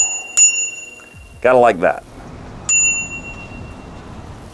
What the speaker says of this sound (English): And the bike even includes a bell.